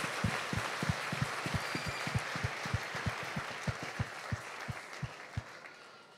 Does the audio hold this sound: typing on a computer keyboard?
no